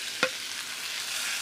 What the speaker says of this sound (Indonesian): Kita tumis rebung